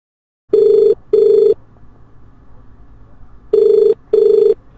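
A telephone rings in two double bursts, each a pair of loud electronic trills separated by a short quiet gap, with a faint murmur of background noise between them.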